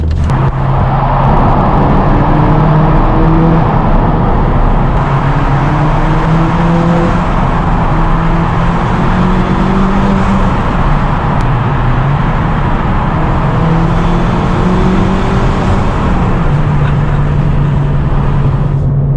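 A Ford Fiesta ST200 engine running on 99-octane fuel drones loudly and steadily throughout, its pitch rising and falling as it revs through the gears, heard from inside the car.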